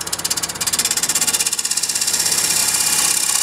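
Wood lathe making a final hollowing cut inside a stacked wooden bowl, a close, loud pulsing scrape that beats rapidly at first, then smooths into a steady continuous shearing hiss.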